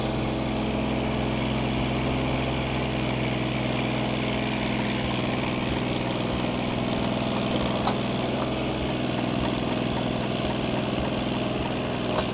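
A Ford 8N tractor with a flathead engine and a Funk conversion runs at a steady, low, throbbing idle, loud and close, with no one talking.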